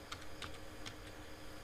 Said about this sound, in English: So here I'm typing something in the bar, let's say iPhone